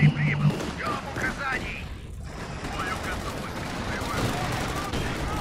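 Dense bursts of gunfire crackle through a busy Company of Heroes 2 four-versus-four match soundscape, with people talking over the shooting throughout.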